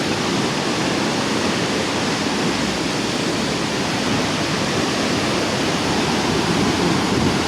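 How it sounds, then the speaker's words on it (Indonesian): Steady, loud broadband roar of strong wind gusts blowing at a waterfall with large boulders, a dense continuous rush filling the whole stretch with no voices. "Ini hembusan anginnya kenceng banget teman-teman, hembusan anginnya."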